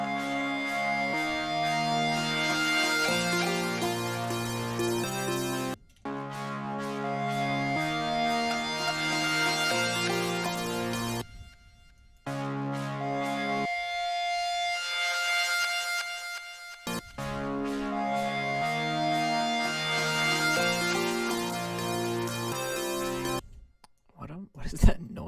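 Electric guitar chords ring out in long strummed passages, interrupted by a few brief gaps, sounding slightly distant as if picked up by a room microphone.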